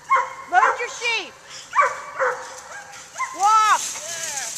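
Herding dog working sheep, giving repeated sharp barks and yips in short bursts, close and loud, with a handler's voice talking between them.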